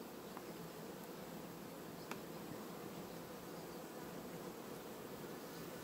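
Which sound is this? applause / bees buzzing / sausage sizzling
bees buzzing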